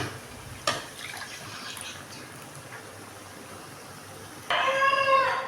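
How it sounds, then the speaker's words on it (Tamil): Tamarind solution is poured into a pot of bitter gourd tamarind kuzhambu, a Tamil curry. A steady background hiss leads into a bubbly, gurgling splash of liquid near the end. "ஒரு எலுமிச்சம்பழம் அழுவ புளி கரைசல் ஊற வச்சு கரைசி வச்சுருக்கேன் இப்போ போட்டுடலாம்"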